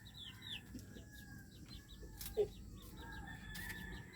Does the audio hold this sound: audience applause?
no